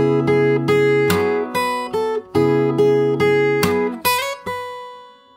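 A fingerstyle guitar plays the chord part with ringing, sustained notes in a repeating pattern. The playing is close and clear, and the last chord is left to ring out.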